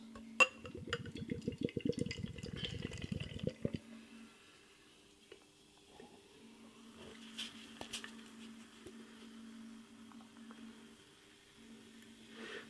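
Espresso milk stout beer pours from a can into a glass with a dense, fizzing patter for about four seconds, followed by quieter clinks and faint background rustle.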